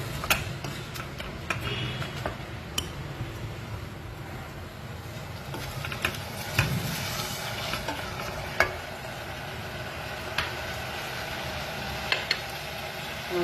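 Mushrooms sautéing in a pan for a mushroom masala curry, giving a steady low sizzle with occasional soft ticks and clicks of a utensil against the pan, close by and with no voices.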